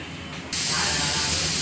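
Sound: mixer grinding roasted onion, coconut, ginger, garlic and coriander

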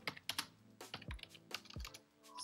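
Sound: typing on a computer keyboard

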